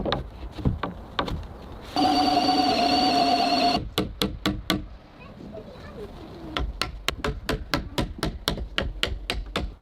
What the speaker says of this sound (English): With his axe, he strikes the marked section of the wood, removing the excess material needed for the joint